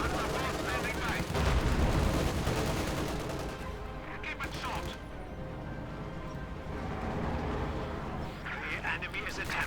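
Gunfire and explosions rattle through a Company of Heroes 2 battle between US and German forces, with dense overlapping bursts, heavy booms and anti-tank fire filling the mix while a commentator talks over it.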